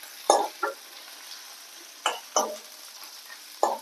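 Fresh curry leaves go into a hot pan of oil for kumbalanga (ash gourd) curry, giving several short, sharp crackling bursts spaced irregularly over a quiet background with no talking.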